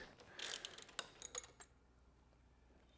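A wrench grips a bolt on a Honda Goldwing and breaks it loose, producing a quick run of ratcheting metallic clicks and clanks in the first half that then fall silent, close and clear.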